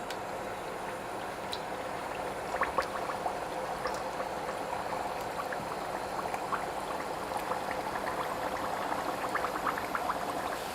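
Dough twists for sanzi fry in a wok of hot oil over medium heat, giving a steady, soft crackling sizzle with fine bubbling that runs on evenly with no voices.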